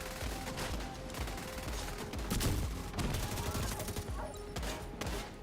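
Dense gunfire in the video game The Division 2, rapid overlapping shots and bursts crackling throughout at a fairly loud level, with a voice speaking over the battle.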